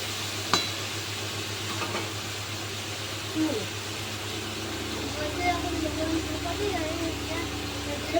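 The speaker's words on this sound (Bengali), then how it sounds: "আর এদিকে পুঁই শাকের আলু কুমড়োটা বসিয়ে দিয়েছি, একটু ভাজা ভাজা হলে শাকটা দেবো।" Potato and pumpkin frying in a pan, a soft steady sizzle with occasional stirring scrapes and light knocks, close and moderately loud over a low background hum.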